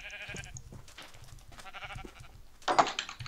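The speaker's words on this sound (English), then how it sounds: "Hey, don't kill that sheep." A sheep bleats in a Minecraft-style survival games match, several short buzzy game sound effects followed by a louder, harsher bleat near the end, alone without talk.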